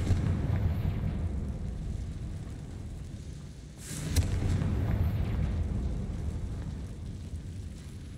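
A Confringo fire spell explosion in the video game Hogwarts Legacy: a rumbling, roaring burst that swells midway through over a continuous low, dense background roar.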